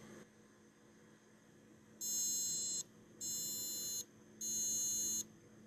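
An MSI Z77A-G41 motherboard's buzzer signals a missing-RAM error during power-on, three long, evenly spaced electronic beeps of under a second each over a faint steady hum, close and fairly quiet.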